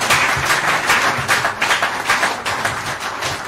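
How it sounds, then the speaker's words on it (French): A church congregation applauds loudly in tribute to Pastor Charles, a dense, sustained wave of clapping from a large crowd throughout. "j'aimerais vraiment si on puisse acclamer très très fort pour rendre hommage au pasteur Charles"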